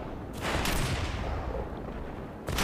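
Rocket launchers and guns firing in a dinosaur war video game, a dense, continuous burst of gunfire and explosions that stays loud throughout with a fresh volley at the end.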